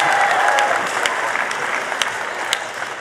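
Audience applause at a baccalaureate ceremony, a steady wash of many hands clapping through the whole stretch, fairly loud and close, with no talking on top.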